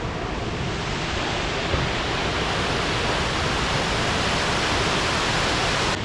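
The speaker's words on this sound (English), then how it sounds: "Quite a spectacular waterfall." A spectacular waterfall at the Birks of Aberfeldy in the Scottish hills roars as a steady, dense, loud wash of falling water that stays constant from start to finish, with no voices.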